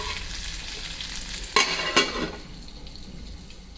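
Okra masala sizzles in a pan as it is stirred and mixed, a steady frying hiss with a couple of louder scraping, splashing bursts midway before settling back to a quiet simmer.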